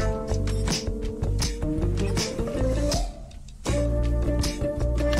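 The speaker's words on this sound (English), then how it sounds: "So in context, these risers sound like this." A punchy electronic beat with rising, sweeping riser tones that build through the groove, a brief drop in energy, then the beat returns.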